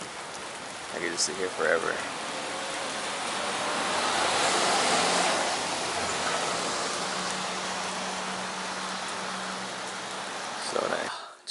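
Heavy rain comes down in a steady roar that swells and holds through the middle. A person speaks briefly near the start and again at the end.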